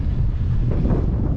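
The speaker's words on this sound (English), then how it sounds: "As you can hear, it's pretty windy." Strong wind buffets the microphone on an exposed mountain ridge in the Brecon Beacons, Wales, producing a loud, continuous low roar and rumble with no pauses.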